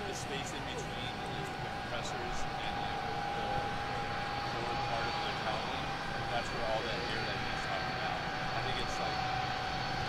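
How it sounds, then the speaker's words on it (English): A C-5 Galaxy military transport of the 439th Airlift Wing taxis past at an airshow, its engines a loud steady whine and roar that hold throughout with a sustained high tone, while a voice speaks over it. "you get a good look at this giant airplane as they taxi by. The C-5 Galaxy of the 439th Airlift Wing"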